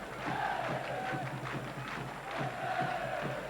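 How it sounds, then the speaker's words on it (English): Chester City fans in a football crowd at the Diva Stadium during a Conference match, sustained crowd noise with clapping and singing at steady loudness over a few seconds, under a commentator's voice. "has got those Chester fans clapping and singing again."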